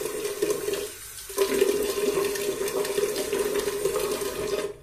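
Tap water running into a shaving bowl to lather a WOMO Dandy hard soap, a steady close splashing flow that briefly dips then continues strongly to the end.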